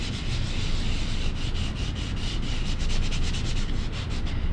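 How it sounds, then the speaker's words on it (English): Sandpaper rubbed over a styrofoam block in steady, continuous back-and-forth strokes, a close, loud scratchy hiss throughout with no talking. "you're going to rub that styrofoam in all the areas"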